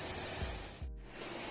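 Water mist spraying from nozzles to cool a public area in St. Gallen, Switzerland on a hot day, a steady broad hiss close by with a brief dip near the middle and a few low thumps.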